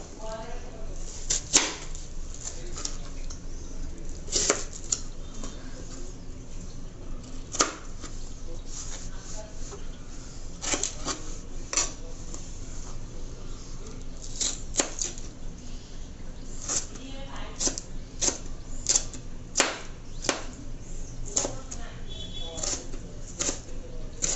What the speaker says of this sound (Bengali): এখন আমি এগুলোকে চিকন চিকন করে কেটে নেব।